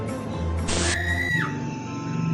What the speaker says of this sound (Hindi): आमना एक बहुत जोर की चीख मारती है।